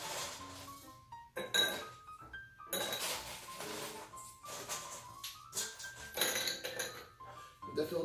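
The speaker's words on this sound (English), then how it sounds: "We'll put some ice in here." Ice cubes for a whiskey Sazerac cocktail drop and clink into a glass in a string of bright, close knocks and rattles, with pauses between them.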